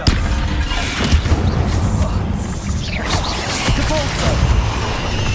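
In Hogwarts Legacy, a Descendo spell slams with heavy booms and crashing impacts amid whooshes of combat, loud and dense throughout, with game voices calling out over the din.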